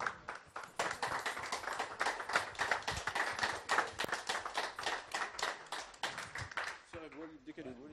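Audience claps and applauds at the Coupe de France Battlefield 3 Xbox 360 esports final as the first champions are welcomed, a steady burst of many hands for about seven seconds before it fades and a voice begins talking.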